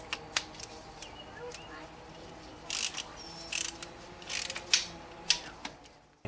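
A ratchet wrench tightens intake bolts on a Ford Taurus 3.0L OHV engine, giving repeated short clicking bursts at irregular intervals, close up and fairly faint against a quiet background.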